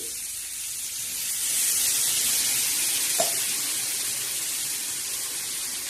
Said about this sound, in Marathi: थोडस गरम पाणी टाकायचंय